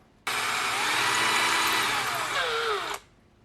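A power drill spins a bit to clear carbon from a Ford Fairmont climate control module, a single close whine lasting under three seconds that dips slightly in pitch before stopping.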